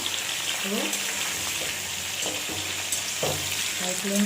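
Tomatoes fry on a high flame for aloo karahi, giving a steady close sizzle and crackle while someone talks over the cooking.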